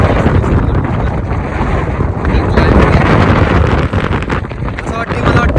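Strong wind buffets the microphone at a sea jetty, a loud, steady roar with gusty rumbling in the low end throughout, while a person talks over it.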